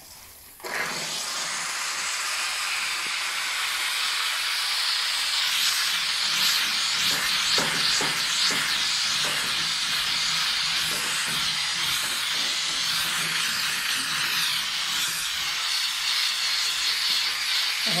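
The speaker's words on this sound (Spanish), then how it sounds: "procedo a pasar con nuestra máquina de vapor" A steam cleaning machine blows a steady, harsh hiss while cleaning a car's interior, starting abruptly and running on without a break at close range, with faint scrubbing and rubbing textures beneath.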